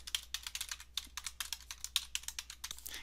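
Rapid, light key clicks from a computer keyboard as a username and password are typed, close up and fairly quiet, with irregular bursts of keystrokes and no talking.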